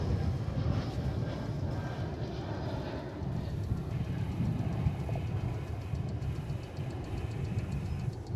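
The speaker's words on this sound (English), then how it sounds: "As we look at an Embraer 175 coming in from Corpus Christi in Texas" An Embraer 175 regional jet arriving to land at Dallas/Fort Worth Airport, heard as a steady, broad engine roar and rumble that holds at an even loudness for several seconds, with no voices over it.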